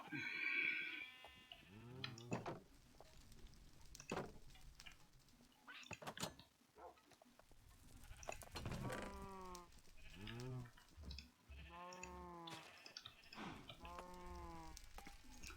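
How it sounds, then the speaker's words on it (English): Sheep in the Minecraft video game bleat over and over at irregular intervals. The calls overlap and vary in pitch, with faint keyboard tapping between them, all fairly quiet. "So I might have just pulled 150 sheep out of my paddock"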